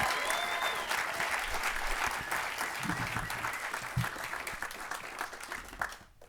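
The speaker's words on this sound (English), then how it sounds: "Give them another round of applause" A live audience at a public event breaks into dense, lively applause, with many individual claps standing out near and loud before it tapers off at the end.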